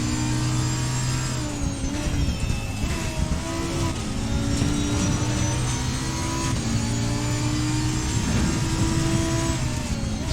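A high-revving Lamborghini race car engine in the racing game Assetto Corsa Competizione screams continuously, pitch sweeping up and down through gear changes, loud and dense with no voices.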